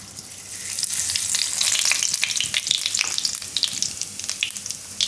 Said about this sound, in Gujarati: હવે તેલ આપણું ગરમ થઈ ગયું. તો તેલમાં આપણે નાખીશું થોડુંક આખું જીરું